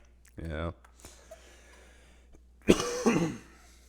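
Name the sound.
cough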